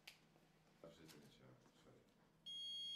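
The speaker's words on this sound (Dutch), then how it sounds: "De stemcomputer zal bij een fout een alarm genereren." A loud, steady electronic error alarm tone from a Smartmatic voting computer in Belgium switches on abruptly near the end, following a few soft taps and faint rustling.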